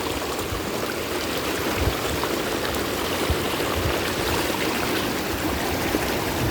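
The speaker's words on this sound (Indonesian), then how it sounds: "gemericik air yang lebih indah" Steady river water tumbles and babbles over rocks continuously, close and fairly loud, with no voices, at the Cinangka river near Jalan Cagak, Subang.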